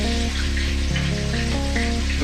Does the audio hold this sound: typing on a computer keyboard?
no